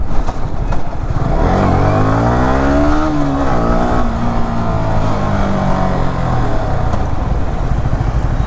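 A 2020 Yamaha R15 V3 BS6 engine running close and loud, the pitch rising then sliding down and settling as it drops toward idle, with a steady throaty hum throughout.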